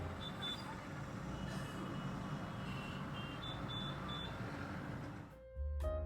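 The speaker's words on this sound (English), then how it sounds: "This was the view from the room with all the possible traffic sounds." Mumbai city traffic heard from a hotel room, a distant, muffled rumble of cars, trucks and buses with a few faint horn toots scattered through, ending in a short thump nearby.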